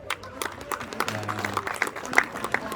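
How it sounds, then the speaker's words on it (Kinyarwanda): Short burst of audience applause at a celebration, scattered claps building briefly and then fading, with a voice speaking over it. "Clapton arakoze cyane, tumukomere amashyi."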